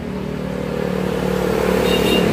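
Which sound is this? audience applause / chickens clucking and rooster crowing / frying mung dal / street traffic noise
street traffic noise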